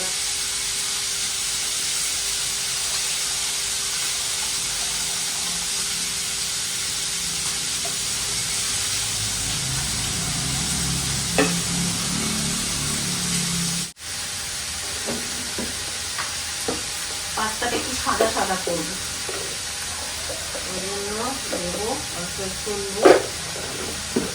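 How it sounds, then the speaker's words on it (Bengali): Pumpkin, pointed gourd and onion stir-fry in a pan with a steady sizzling hiss. After a brief break, scattered clinks of stirring follow, with a voice intermittently heard. "সবজিগুলো ভাজা হয়ে গেল"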